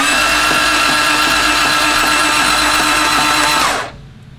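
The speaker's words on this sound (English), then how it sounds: "make sure you check that before you spin the motor over with the starter and make sure it clears" A 2000+ horsepower 2JZ engine being cranked over on its starter motor, a steady loud whirring drone held for nearly four seconds, then cutting off abruptly into quiet.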